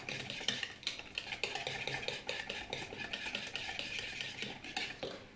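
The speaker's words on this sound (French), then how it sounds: "On mélange tout ça." A mixture stirred in a bowl, a quick steady scraping and clinking of utensil against the bowl, close and continuous with no voices.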